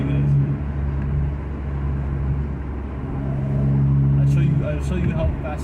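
Engine of a 2011 Acura TSX car producing a steady low rumble that swells louder near the end, heard from close by with no talking over it.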